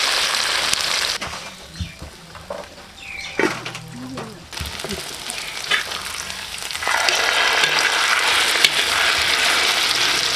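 Shrimp fries in a hot pan with a steady crackling sizzle, broken by clatters and stirring, then rising to a louder continuous hiss near the end, while a person talks at points.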